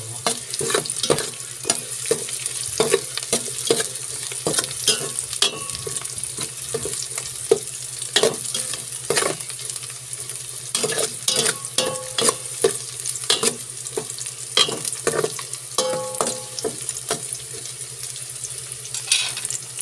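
Garlic frying in a pan for a chicken sinampalokan dish, a steady close sizzle with frequent clinks and scrapes of a utensil stirring, and no talking.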